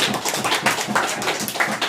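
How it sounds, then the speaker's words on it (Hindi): Lawyers and supporters at an outdoor protest rally clap for a few seconds, a dense patter of hands that is fairly faint and distant. "तालियां"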